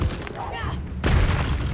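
Spell blasts from Confringo and Reductor cast in a Hogwarts wizarding video game, a burst near the start and a heavier booming impact about a second in, over game voices.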